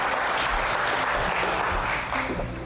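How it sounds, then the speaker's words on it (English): A church audience breaks into sustained applause, a dense, even roar of many hands clapping that fills the hall, with a slight fade toward the end. "huge round of applause."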